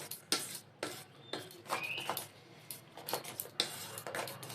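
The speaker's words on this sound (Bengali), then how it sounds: "ভালো করে ফেটে নিয়েছি।" Batter for Mughlai paratha is beaten in a bowl, giving a series of quiet, uneven utensil strokes and clinks against the bowl, close but faint, with no talking.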